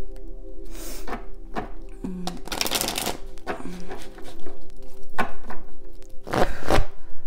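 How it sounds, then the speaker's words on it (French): Tarot cards are shuffled by hand in several quick riffling bursts with soft taps and thumps between them, close and fairly loud, no talk. "je brasse encore"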